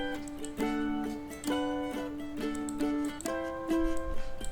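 Unprocessed mandolin from a song, panned left: plucked tremolo-like notes and chord changes in a loose rhythm, dry and fairly bright, with no talking.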